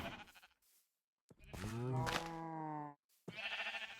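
Sheep in a multiplayer server game bleating in two or three loud, close, wavering calls separated by short pauses, with no talk over them.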